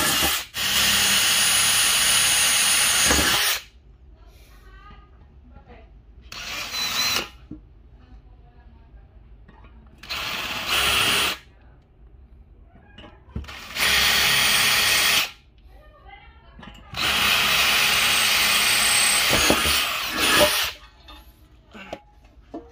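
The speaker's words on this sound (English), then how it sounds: "I'm gonna bore a hole on this" Power drill boring a hole through a metal electric scooter rear plate, loud high-pitched whining bursts of several seconds each, separated by quiet pauses with faint handling noises.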